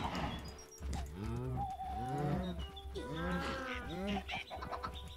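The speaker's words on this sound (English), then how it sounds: "Oh, cow." A cow in the video game Minecraft lets out a couple of drawn-out, wavering moos in close succession, heard clearly over quiet background game sound.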